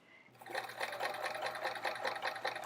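A sewing machine top-stitches fabric pencil pockets with heavy top-stitching thread. After a brief quiet start it runs in a fast, steady, close chatter of stitches until the end.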